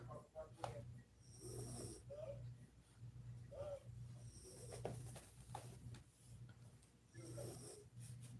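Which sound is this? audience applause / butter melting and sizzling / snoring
snoring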